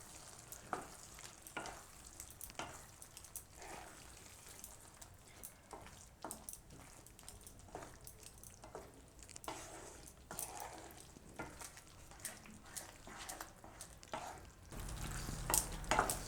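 Capsicum and onion shaak with cream being stirred in a pan on a gas stove: continuous soft sizzling under repeated scraping strokes of a spoon, fairly faint and close, ending in a louder rustle.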